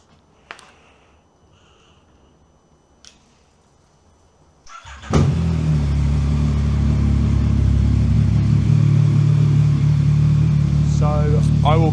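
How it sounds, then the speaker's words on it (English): A motorcycle being prepped for a track day fires up after a few faint clicks, then settles into a loud, steady, close idle as it warms up. "warm the bike up, 2-3 minutes is more than enough"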